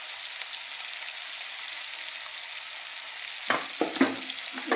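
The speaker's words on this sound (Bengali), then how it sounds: "অল্প একটু নুন দিয়ে ভালো করে কষিয়ে নেব" Spices with salt, green chili and chili powder frying in a pan for a spinach dal, a steady hiss of sizzling oil throughout, with a few clattering stirs of a utensil near the end.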